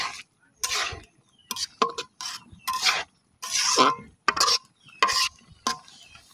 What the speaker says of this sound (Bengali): এবার আমি একটু নাড়া দিয়ে নিব।